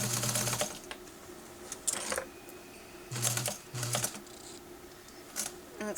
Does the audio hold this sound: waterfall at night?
no